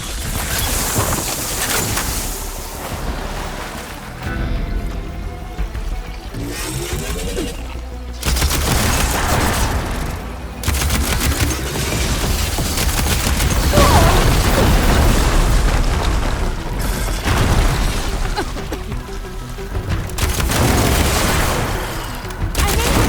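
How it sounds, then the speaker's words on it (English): Ballista shots and heavy explosions in Horizon Forbidden West, fighting a giant machine worm: a continuous, loud barrage of deep booms and bursts layered over a roaring battle din, with brief lulls between salvos. "Hopefully the Genetic will fire a few shots from that ballista."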